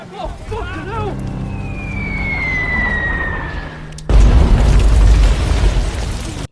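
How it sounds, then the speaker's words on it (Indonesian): A Vietnam War film battle scene with North Vietnamese bombs striking an Australian and New Zealand base: a tense whistling tone gives way to a sudden loud, rumbling explosion that fills the end. "Film dimulai dengan scene penyerangan dengan bom yang bertubi-tubi oleh Vietnam Utara ke markas Australia dan Selandia Baru."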